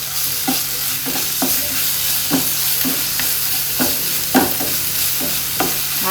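Onion with ginger garlic paste sautéing in a pan for chapathi curry: a continuous sizzle broken by regular spoon scrapes about twice a second, close and fairly loud, with no talking.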